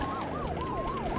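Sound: ambulance siren in the Nintendo video game The Stretchers

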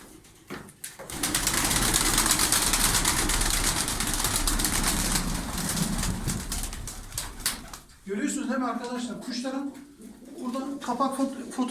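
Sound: pigeon cooing

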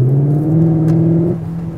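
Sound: Cupra Leon sports car engine revving growl

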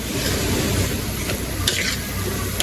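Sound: frying and stirring tomato in spiced fish curry

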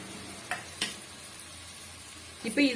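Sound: green chillies and onions frying in pan

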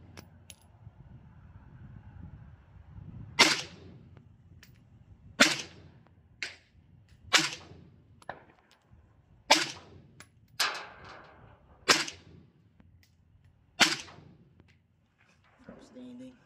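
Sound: suppressed PSA Krink AK-74U rifle gunfire

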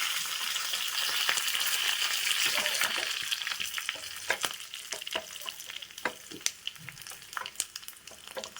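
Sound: curry leaves sizzling in hot oil tempering

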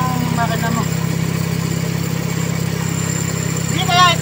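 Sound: Toyota Corolla engine idling

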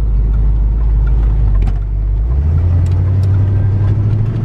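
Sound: 1979 Pontiac Firebird Trans Am engine running while driving

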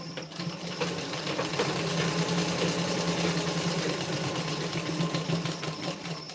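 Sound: sewing machine stitching blouse tucks

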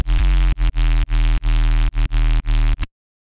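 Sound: Serum synth bass layer with distorted noise layer

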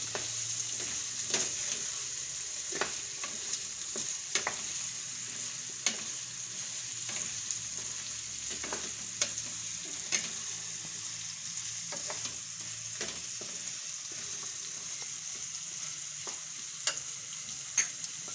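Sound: stirring and frying stuffed chibhada curry in a pan

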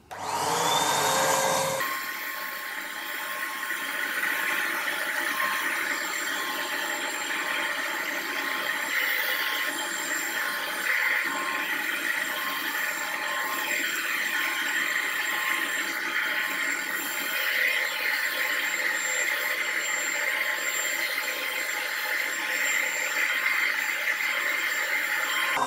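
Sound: blower of homemade powder coating gun blowing powder

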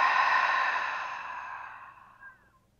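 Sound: big open-mouth exhale during yoga breathing

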